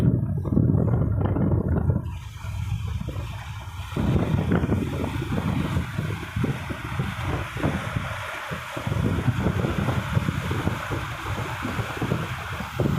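Strong wind roars and buffets across the microphone on a boat at sea that is towing two small boats, a dense continuous rushing with gusty surges and water noise underneath, loud and close throughout.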